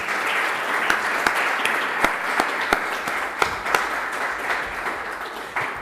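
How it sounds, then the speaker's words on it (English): An audience at an academic lecture applauds to welcome Professor Jean-Emmanuel Pondi, a dense, steady wash of clapping with a few sharper individual claps standing out, continuing throughout. "the one which I ask you to welcome with a round of applause, Professor Jean-Emmanuel Pondi"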